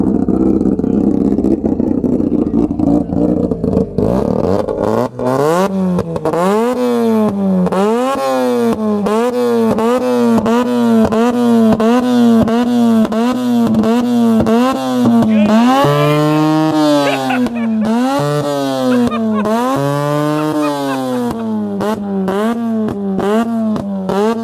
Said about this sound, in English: we got an RX-7 revving up like crazy